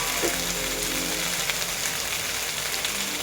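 Tomato frying in a pan for a thin Bengali singi catfish curry: a steady, soft, even sizzle that hisses continuously like light rain, with no talk.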